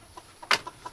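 A chicken in its coop gives a short, quiet cluck or squawk, a single brief call among a few fainter sounds.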